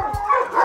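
A single short dog yip or bark comes from sled dogs, close and brief.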